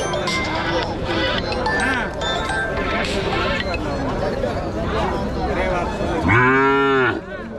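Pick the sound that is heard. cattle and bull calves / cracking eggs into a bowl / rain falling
cattle and bull calves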